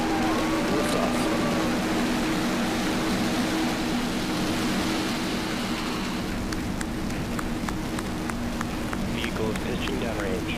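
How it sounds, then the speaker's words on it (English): A SpaceX Falcon 9 rocket lifts off with a dense, continuous roar that holds steady and loud from start to finish, broad and rumbling, with a person's voice speaking over it. "Liftoff."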